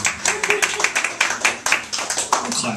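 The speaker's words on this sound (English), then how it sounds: "I'll clap for that." A small comedy-club audience claps in steady, scattered rhythm, fairly close and clear, with faint murmuring underneath.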